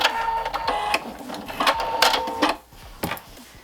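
A Husqvarna Viking Topaz 50 sewing machine stitching a button in place, loud rapid mechanical needle thumps in short bursts with a brief pause near the end, no talking.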